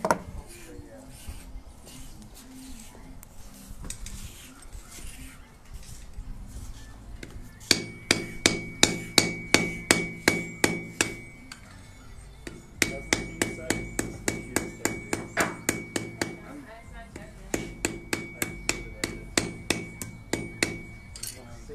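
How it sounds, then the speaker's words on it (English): A hammer strikes a nail being peened over as a rivet at a tool repair workbench, sounding in several bursts of sharp, evenly spaced metallic blows, loud and close, with quieter handling noise in the pauses between runs. "I'm gonna cut it with just a little bit of extra so I can hammer it"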